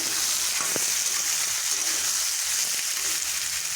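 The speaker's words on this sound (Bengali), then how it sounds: "দেখুন ভাজা ভাজা হয়ে যাচ্ছে" Potato, pumpkin and eggplant fry in a pan with a dense, even, loud sizzle that holds steady throughout, one brief knock near the start and no voices.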